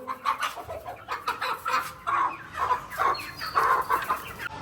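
A black hen clucks and squawks in agitated, repeated bursts while being caught, close by, with rustling and scuffling noises as it struggles.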